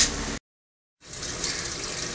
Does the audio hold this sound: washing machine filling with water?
yes